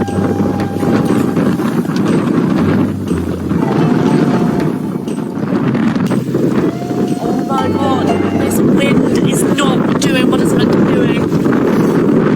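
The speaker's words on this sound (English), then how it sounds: "I've got a headwind. I need to go there. I've got like 30 knots in my face." A strong 30-knot headwind buffets a sailing boat at sea, producing loud, continuous roaring rumble and gusty microphone wind noise that persist throughout, with a voice faintly audible underneath.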